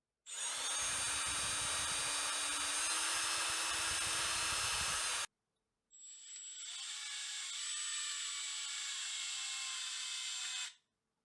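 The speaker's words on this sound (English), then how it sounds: "I need to drill in the eye sockets and add the twist wires." A power drill whines steadily for several seconds drilling holes in a handmade fishing lure, stops briefly, then runs again at a higher pitch, close and loud with no talking.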